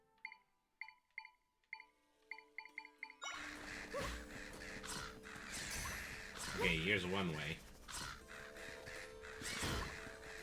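Crow enemies caw in Legend of Zelda: Echoes of Wisdom, harsh squawks rising over busy game music and battle effects after a run of short chiming menu tones, with someone talking over much of it.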